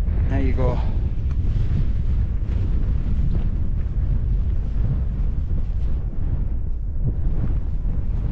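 Strong wind buffeting the microphone, a continuous roaring rumble that rises and falls in gusts throughout.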